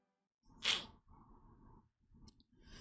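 A single sharp human sneeze bursts out loud and close, followed by a few quieter, muffled rustling sounds.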